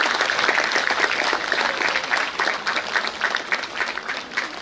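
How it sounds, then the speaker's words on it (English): Sustained applause from parents at an award ceremony honouring APPSCCE 2024 achievers, a dense wash of many hands clapping that stays loud throughout with no speech over it. "for the parents cheering from the back"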